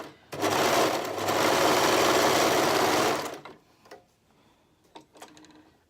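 An overlock serger runs in one steady, loud burst of fast whirring stitching for about three seconds, then stops, leaving a few light clicks and taps.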